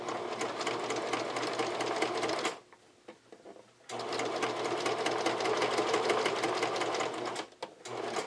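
A sewing machine stitching a garment, loud steady whirring runs, a pause for pivoting at a corner, then another long run before stopping with a short final burst.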